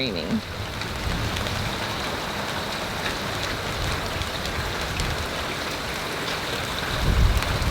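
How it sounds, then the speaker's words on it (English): Steady rain falling on a foggy day, a dense even hiss that holds throughout with a faint low rumble near the end. "Wow, it's like raining."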